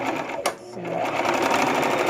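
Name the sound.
sewing machine stitching a chair seat cover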